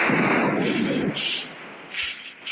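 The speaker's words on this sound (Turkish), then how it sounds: "bomba sesi geliyor" A bomb explosion in PUBG Mobile booms with a loud, heavy rumble that fades out, followed by a couple of fainter distant blasts.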